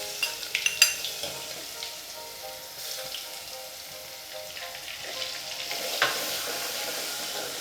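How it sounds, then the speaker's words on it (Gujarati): Ginger, garlic and chili paste sautéing in oil for Gujarati dal dhokli, a soft sizzle with a few quick spoon and pan clinks at the start and a brief louder burst later. "બરાબર મિક્સ કરીને એને થોડુંક સાંતળી લઈશું"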